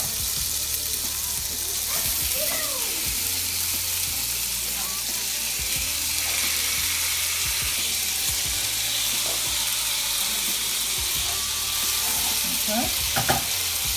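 Noodles and vegetables sizzle in a buttered pan, a constant close frying hiss with occasional stirring scrapes and clinks, while a person briefly speaks over it.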